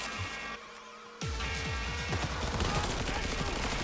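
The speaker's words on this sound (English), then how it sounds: "let's get the just old assault rifle out" Assault rifle gunfire in Cyberpunk 2077: after a brief quieter lead-in, a loud sustained burst of rapid automatic shots rattles on to the end.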